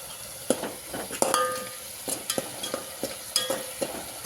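Masala of garlic, onion and turmeric frying in a pan, a steady close sizzle broken by repeated scrapes and clinks of a spoon stirring through it.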